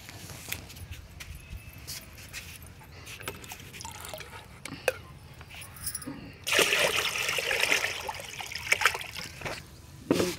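Diluted waste decomposer liquid is poured into a container, heard as a close, steady splashing pour that starts partway through, after light clattering and handling noises.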